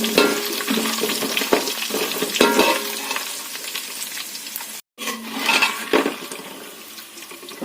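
Peanuts frying in hot oil with garlic and curry leaves, a steady dense sizzle with scraping and stirring from a slotted spoon as they are scooped out, one brief gap near the middle, no talk.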